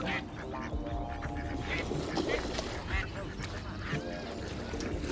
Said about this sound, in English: these two wild ducks landed in my pool